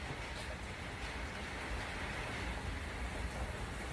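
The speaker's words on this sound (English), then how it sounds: "Wind and rain." Steady wind-driven rain pours outside an open garage as a thunderstorm arrives, a dense, even hiss that holds without a break.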